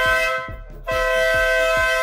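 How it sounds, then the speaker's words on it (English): An air horn kit fitted to a UTV in a shop blasts loudly and close. The sustained tone dips briefly and then returns, over a low pulsing rumble. "They're installing an air horn kit on UTVs, actually"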